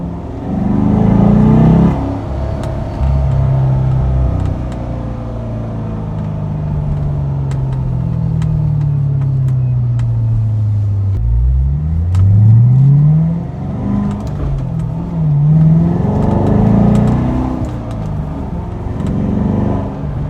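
A 2014 Chevrolet Corvette Stingray with a manual transmission accelerates hard on the road, its engine booming and rising in pitch through the gears in loud, close sweeps.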